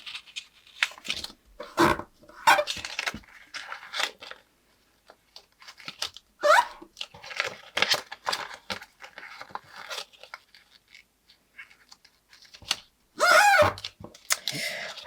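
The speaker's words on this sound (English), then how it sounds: "Because this paper is so glossy, I am getting this nice squeaky sound" Glossy paper squeaks and crinkles in short bursts as it is folded and creased, with brief quiet gaps between the handling sounds.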